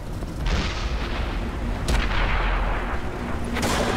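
Tank cannon fire in World of Tanks on PS4: three heavy booms spaced about two seconds apart over a constant low rumble of engine and battle ambience, with no speech.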